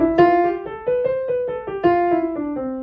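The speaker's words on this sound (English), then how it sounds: "If you haven't mastered the thumb tuck, your scale would sound something like this" Piano scale played unevenly with a poorly executed thumb tuck, about ten separate notes stepping along with slightly uneven timing and bumps at the tuck points, clear and close with no talk.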